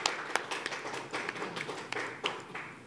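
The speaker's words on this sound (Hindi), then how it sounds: "तालियां हो जाए उनके लिए।" Audience applause at an award show, scattered hand claps forming a patchy, moderately loud burst that carries through most of the short stretch without talk.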